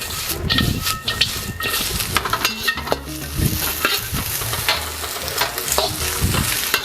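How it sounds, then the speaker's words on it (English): Onion and peppers fry in a pan for a Singapore noodle dish, a steady loud sizzle broken by repeated scraping stir strokes of a utensil, close up with no talking. "the onion in with your peppers"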